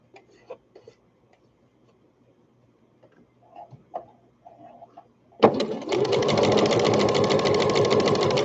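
A sewing machine starts up after a few quiet handling knocks and runs in a steady, close, loud stitching whir while sewing skirted baby bummies, with no talking over it.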